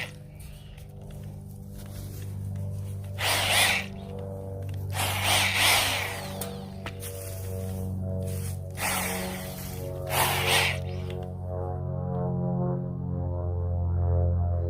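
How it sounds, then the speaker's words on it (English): A cordless drill fitted with an auger churns garden soil and buried leaves in a flower bed, its motor whirring in several loud bursts between steadier low running. "it's a drill that I bought an auger for"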